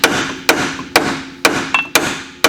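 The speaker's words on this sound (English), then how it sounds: "give me the hammer real quick" Six sharp hammer blows strike a bent Polaris Ranger frame, spaced about half a second apart with a brief ringing decay after each, loud and close in a shop.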